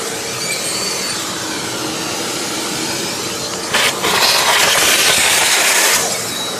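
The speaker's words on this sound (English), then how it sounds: "I'm gonna use a little bit of vacuum" A loud, steady vacuum whine with broadband hiss runs throughout, growing briefly louder and rougher near the end, with no voices.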